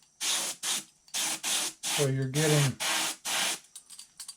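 Several sharp hissing bursts of a spray gun applying PVA release agent onto a mold in quick succession, each about half a second long, with someone talking briefly in the middle.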